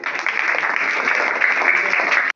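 Audience applause at a school seminar on environment and vegetarianism, steady dense clapping filling the clip at moderate loudness before cutting off abruptly at the end.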